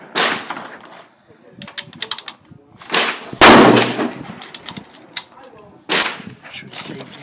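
Yugoslavian SKS M59/66 rifle firing a handful of sharp, irregularly spaced shots outdoors, with a louder burst near the middle and metallic clinks between, mixed with brief voices.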